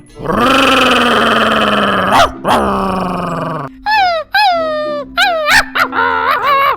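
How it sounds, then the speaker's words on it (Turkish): Two dogs in Minecraft snarl and growl at each other in a loud, continuous fight, followed by a burst of sharp yelps and whines. "İki köpek şimdi dövüşecekler"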